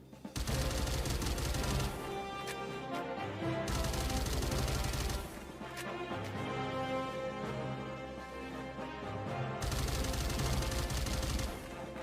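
Rapid automatic gunfire from the video game NIKKE comes in sustained loud bursts separated by short reload pauses, with a heavy rhythmic low thump under each stretch of fire.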